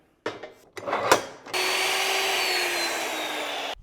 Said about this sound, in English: And then I'm gonna flip and miter this end